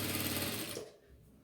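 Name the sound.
sewing machine stitching elastic on baby shorts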